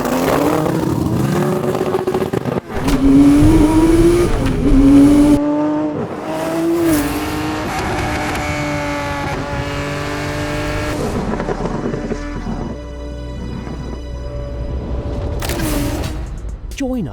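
A Gunther Werks F-26 slantnose, a 993-generation Porsche 911 modified to 1,067 horsepower, accelerates hard. The engine note climbs in rising revving sweeps, then settles into a steady, loud drone with a brief high whine near the end.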